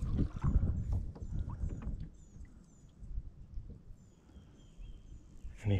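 A small fishing boat eases quietly through the water as paddle strokes dip and swish in soft, irregular splashes up close, with faint birdsong and light wind in the background.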